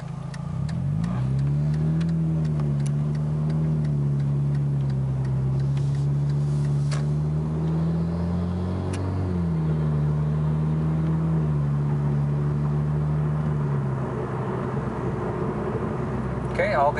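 Inside a 2013 Genesis Coupe 2.0T with a Magnaflow catback exhaust, the engine drones and rises steadily through a gear, briefly dips at a shift, then climbs again before easing off, with a constant cabin hum.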